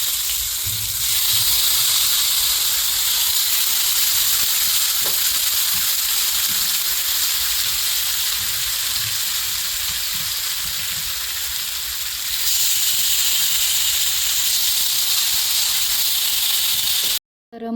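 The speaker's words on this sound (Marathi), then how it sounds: "तर मस्त असे मासे फ्राय करायला ठेवले होते मी." Fish fry in a little oil on a flat griddle, giving a continuous close hiss and sizzle that holds steady for many seconds before cutting off abruptly near the end.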